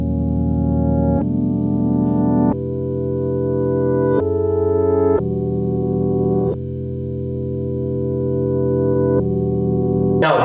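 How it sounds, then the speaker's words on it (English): Reversed Rhodes electric piano chords at a slow 90 BPM tempo swell in one after another, each sustained chord changing every second or two, smooth and loud with no voices. "I already reversed it and that sounds like this."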